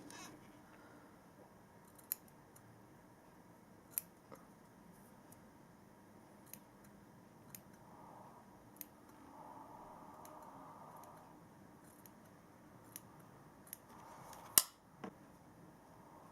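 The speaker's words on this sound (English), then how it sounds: "you can just go back over and snip any of those little bits" Sharp, isolated snips of scissors trimming a fringe of hair at irregular intervals, close and quiet, over a faint background hum.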